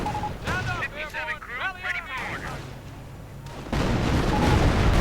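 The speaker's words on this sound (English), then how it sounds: "That's a bit of a waste of munitions, I think." A heavy rocket barrage in a multiplayer strategy game builds into a dense, loud rumble of rapid explosions near the end, following a stretch of mixed battle sounds and whistling effects.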